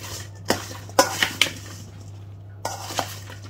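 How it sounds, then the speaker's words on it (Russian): Zucchini stirred with salt in a bowl, a few sharp utensil clinks and knocks against the bowl in two short bursts, close and clear with no talking. "Перемешиваем."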